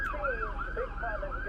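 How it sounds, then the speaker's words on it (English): Police car sirens wail past in a steady rising and falling sweep, loud and close, with a low traffic rumble beneath and no talk. "Seeing about 20 police cars go by, lights, sirens, and radio calls for shots fired."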